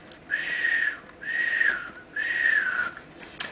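A reader whistles three long rising-and-falling notes, each about half a second apart, in imitation of Santa whistling to his sleigh team; the whistles are clear and fairly close, with no talking over them.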